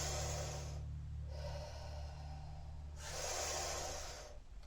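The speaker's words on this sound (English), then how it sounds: "so when we suck in, we're going to make a little sound like this" Two slow, audible inhalations drawn in through lips shaped into a funnel, each a breathy hiss lasting about a second or more, close to the microphone with a low hum underneath and no talking.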